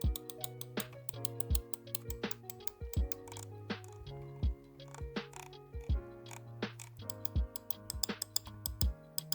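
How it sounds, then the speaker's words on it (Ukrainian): Crisp button clicks from a HATOR Pulsar 2 gaming mouse tap out in quick, uneven bursts, close up, over a soft steady musical background. "Ви тільки послухайте, які тут кліки."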